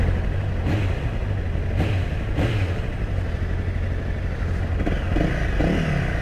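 A motorcycle on a test ride drones through a steady, loud engine note with wind rush and a few brief throttle blips, heard close throughout with no speech.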